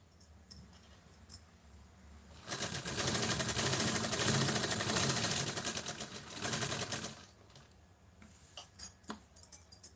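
A sewing machine stitching a fall onto a saree runs in one steady, loud burst of rapid stitching for several seconds, framed by quieter handling clicks and taps of the fabric before and after.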